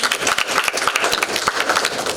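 Audience clapping at a parenting talk, a dense run of sharp, close hand claps from a small group, fairly loud and steady throughout.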